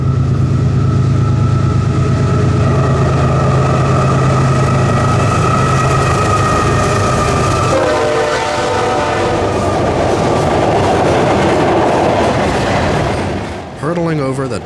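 A Florida East Coast Railway freight train with EMD locomotives rumbles past over Turnbull Bay, steady and loud, with a long horn blast early on and rolling clatter of wagons fading toward the end.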